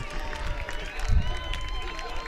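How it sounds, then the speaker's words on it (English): Baseball crowd at a BJU Bruins college game cheering after a grand slam in the bottom of the second, a broad steady roar of voices with a brief low thump partway through, sustained throughout. "Crowd is excited."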